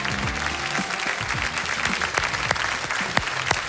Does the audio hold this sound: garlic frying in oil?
no